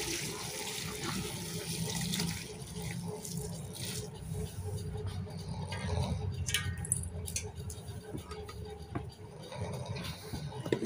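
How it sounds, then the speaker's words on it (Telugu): Water pours and splashes continuously at moderate volume, with occasional clinks and handling noises mixed in. "వేడి నీళ్ళు కాసుకొని పోసుకోవాలి"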